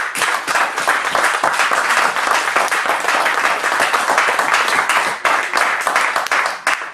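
Church congregation applauding, a loud, dense and sustained wash of many hands clapping together close by, continuing steadily throughout.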